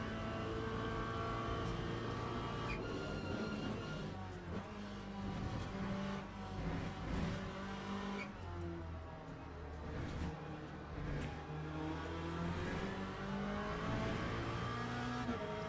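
Race car engines in the Le Mans Ultimate racing game: a steady, loud engine drone with shifting pitch as the car accelerates and changes gear, with other cars close by.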